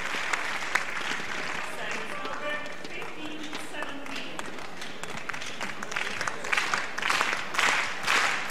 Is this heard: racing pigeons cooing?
no